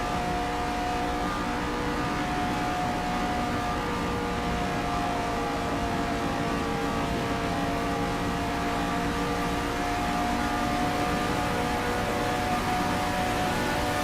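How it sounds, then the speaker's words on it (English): Loud race car engine in Forza Motorsport, a steady, continuous roar with a high whine running the whole time and no pauses or talk. "That car's super loud."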